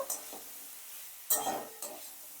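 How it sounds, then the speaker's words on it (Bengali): Potatoes and cauliflower frying with ginger paste, stirred in a few quick scraping strokes over a faint sizzle, near and brief with no talk. "আদা বাটাটা দিয়ে ভালো করে কিন্তু আলু আর ফুলকপির সাথে মিশিয়ে নিয়ে ভাজবো"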